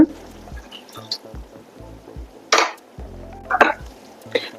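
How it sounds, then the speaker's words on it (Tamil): Water from a cup poured into a simmering dried fish curry with tamarind, a few short splashy bursts of liquid over a low background hum. "ஒரு கப் அளவு தண்ணி ஊற்றிக்கோங்க"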